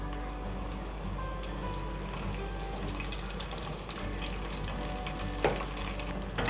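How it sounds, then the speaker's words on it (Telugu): Green chillies and curry leaves fry in hot oil for a pulao, giving a steady, close sizzle and crackle that runs throughout with a few louder spits and no talking. "పచ్చిమిర్చి వేగిన తర్వాత కొద్దిగా రెండు కరివేపాకు రెమ్మలు వేసుకోవాలి."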